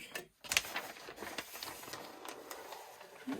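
A sewing machine stitches along a line in foundation paper piecing, a faint, steady mechanical whirr with a few light clicks, close and quiet without talk.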